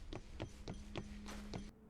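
Loba's high-heel boots in the Apex Legends video game tap out six quick, evenly spaced footsteps over a steady low hum, ending abruptly.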